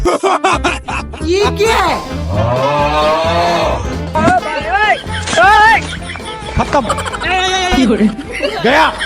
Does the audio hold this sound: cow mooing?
yes